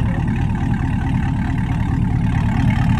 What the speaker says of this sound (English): Borla exhaust system on a 2020 C8 Corvette. Sounds pretty good.